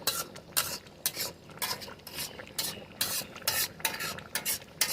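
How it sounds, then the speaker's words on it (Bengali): Chicken pieces being sautéed for dhania chicken, stirred briskly in a pan. A soft sizzle runs under quick, rhythmic scrapes and clinks of the spoon against the metal, close up, with no talking. "সুন্দর করে কষানো হচ্ছে মাংসটা, দেখুন একবার।"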